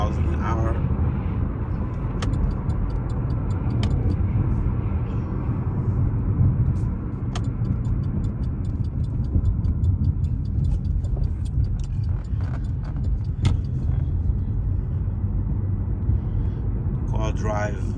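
A Chevy Malibu with transmission trouble cruises at about 40 mph, a steady low road and engine rumble from inside the cabin with faint ticking, continuous and even throughout.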